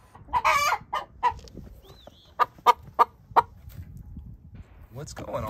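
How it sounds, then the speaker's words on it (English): Hen clucking inside a coop, a run of sharp loud clucks in quick bursts with a brief squawk, close by, with a person murmuring faintly near the end. "Freaking chicken."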